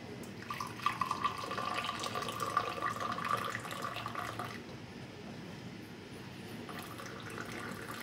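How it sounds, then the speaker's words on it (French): Water is poured from a teapot to rinse seeds and tea for mint tea, a steady trickling stream into a glass with a few small splashes, then a softer continuous flow. "Je vais verser de l'eau pour rincer ces graines."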